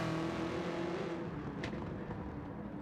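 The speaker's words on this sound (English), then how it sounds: "I'm just driving this car" Car engine in Gran Turismo 7, steady droning hum as the car drives around the track, with a brief tire squeal near the middle, moderately loud and continuous.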